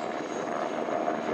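A Tigre attack helicopter flying at Rennes Saint-Jacques gives a steady, moderately loud rotor and engine drone, continuous and unbroken over a short stretch.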